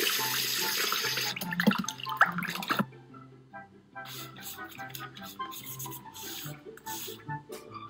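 A houseplant is dunked into a tank of water to remove pests: splashing and sloshing up front, a brief lull, then bubbling, dripping and gurgling water close by, with no voices.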